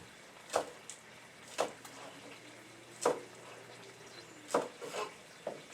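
A knife cuts through ginger root on a cutting board in a home kitchen, several separate crisp chops at an uneven pace, close and moderately quiet over faint background hum.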